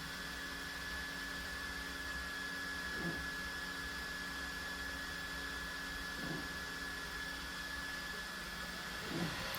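Bambu Lab X1 Carbon 3D printer purging filament out the back into a chute, a steady whirring fan hum with a constant high whine and a few soft periodic clicks spaced a few seconds apart.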